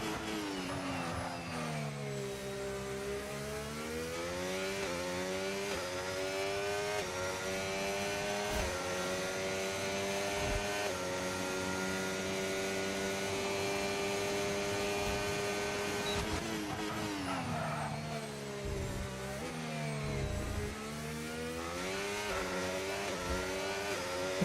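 A Formula 1 race car engine screams through a lap of the Saudi Arabia circuit in an F1 game, revs rising and falling through gear changes and braking, loud and continuous with no talk.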